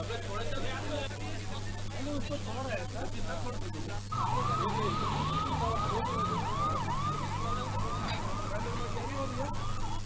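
A loud ambulance siren starts partway through, wailing in repeated rising and falling cycles over traffic noise and distant voices, at a road blockade in Bilaspur.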